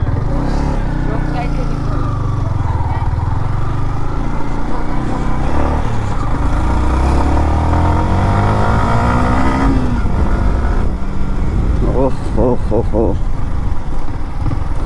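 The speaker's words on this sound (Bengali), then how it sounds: "তো গাইস আমার বাইক নিয়ে চলে গেল" A modified black Yamaha MT15 motorcycle with its rear mudguard removed revs up, its engine note climbing before it rides off and fades, with people talking over it throughout.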